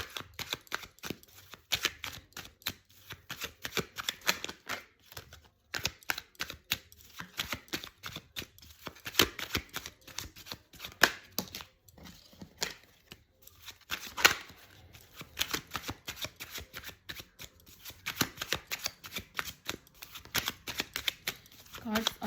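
Tarot cards being shuffled in repeated quick riffling bursts throughout, close and moderately loud, with a person talking at intervals over the card noise.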